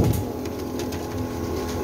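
Pigeons coo softly in a low, continuous murmur, with several birds close together in a pigeon-keeping setting and no voices in the brief stretch.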